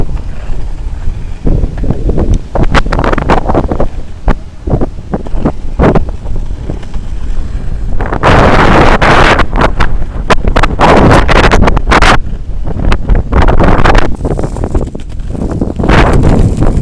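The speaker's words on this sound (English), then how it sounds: "It might be windy" Strong wind buffets the microphone in loud, rumbling gusts, swelling and easing without pause; no voices.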